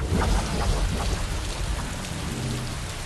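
Steady heavy rain in the video game Mass Effect 3 hisses and patters without a break, dense and close, with a low rumbling undertone throughout.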